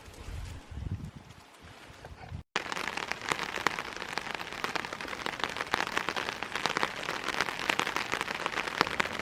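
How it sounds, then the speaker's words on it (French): Rain falling steadily on a surface nearby in the Mastigouche, a dense patter after a brief quieter start with a short cut. "Ben oui, il pleut."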